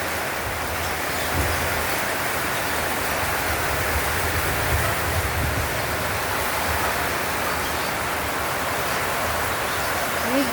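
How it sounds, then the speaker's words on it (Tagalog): Steady afternoon rain with no wind, an even, unbroken hiss of falling water that stays constant throughout with no gusts or changes. "wala namang hangin, ulan lang siya. Maulan na hapon."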